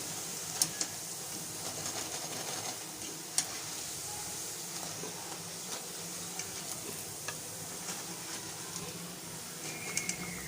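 Chicken malai pakora fry in hot oil with a soft, continuous sizzle and scattered small crackles and ticks, faint and close, with occasional light clinks.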